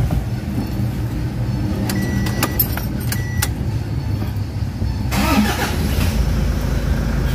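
A Toyota Hiace van with its timing-belt indicator just reset has keys jingling near the ignition, then its engine cranks and catches into a steady, loud idle rumble, close by with no voices.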